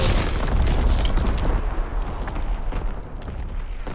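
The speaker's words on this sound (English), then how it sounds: "Incoming enemy artillery! Get to cover!" Enemy artillery fire in the WWII shooter Call of Duty, loud rolling booms and blasts with scattered gunfire pops, heaviest in the first seconds and then easing into a lower steady rumble of distant explosions.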